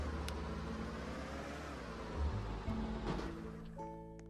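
A vault truck drives in the video game Lumber Tycoon 2, its steady engine drone quiet and continuous with slight revving shifts and a few tonal game effects near the end.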